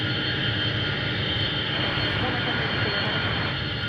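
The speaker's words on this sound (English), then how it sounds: "Looks like he's moving under his own power. Sweet. Yep. He's taxiing." A Boeing jet taxis under its own power at Paine Field, a steady, loud engine roar and whine that holds constant, with the sound of people talking nearby over it.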